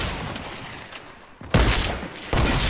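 Gunfire in Fortnite, a couple of sharp, loud bursts of shots with a rumbling tail, the second arriving after a short lull; no voices.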